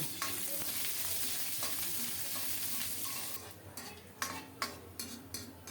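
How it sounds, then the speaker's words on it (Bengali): Chopped onion frying in oil with a dry chilli and panch phoron, a continuous close sizzle that gives way to sharp spatula strokes against the pan near the end, no talking. "কুচানো পেঁয়াজ পেঁয়াজটাকে বাদামি করে ভেজে নেব"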